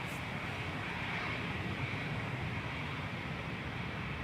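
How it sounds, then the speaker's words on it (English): A KLM Boeing 737-800 departing Manchester Airport for Amsterdam produces a broad, steady jet engine roar at a distance that holds constant throughout, with no voices. "that was KLM departing"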